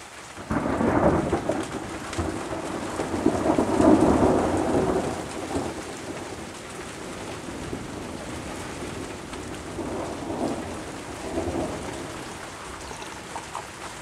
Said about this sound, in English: that was a good bit of lightning, wasn't it? The thunder.